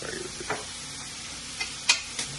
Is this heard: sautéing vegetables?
yes